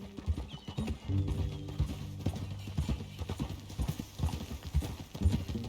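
Horse hooves clip-clopping in Red Dead Redemption 2, a steady close rhythm of hoofbeats with a brief neigh, alongside low background sounds.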